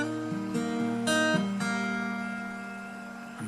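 An acoustic guitar phrase from a song, played alone as a run of plucked notes with hammer-ons, the final chord left ringing and fading.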